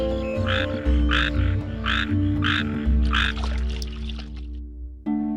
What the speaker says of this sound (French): des grenouilles dérangées par le bruit se mirent à coasser